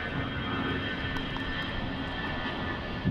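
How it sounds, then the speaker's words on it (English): Airplanes pass overhead near LaGuardia Airport above an outdoor pickleball championship court in Flushing Meadows, a steady broadband engine rumble filling the background throughout with no clear talk. "And you do get the planes overhead"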